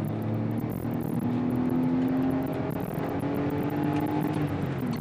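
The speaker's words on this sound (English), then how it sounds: "Check the acceleration here. And we're going 30 miles an hour all the way to the mat." A BMW X5 with the M54 engine pulls at full throttle from 30 mph, a steady muffled engine drone rising gently in pitch under road and wind noise from inside the cabin.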